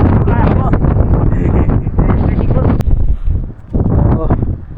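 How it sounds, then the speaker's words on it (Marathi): Strong wind roars and buffets the microphone in loud, rough gusts on a hill fort trek at Tandulwadi fort, briefly easing before surging again. "वारा खूप जोरात आहे त्यामुळे चढायला होत नाही"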